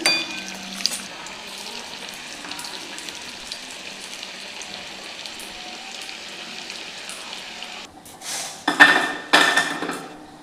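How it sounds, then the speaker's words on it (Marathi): Muthe dumplings frying in hot oil, a steady close sizzle, then several louder bursts of crackling and utensil clatter near the end. "मुठे पण आपण अशाच प्रकारे तळून घ्यायचे"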